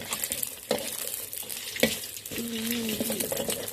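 Egg fried rice sizzling and frying in a pan with scraping stir strokes and occasional clinks of a utensil against the metal, close by.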